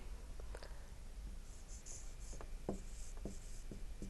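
Chalk or marker scratches across a classroom board in short strokes and taps, fairly faint over a steady low room hum, with no talking.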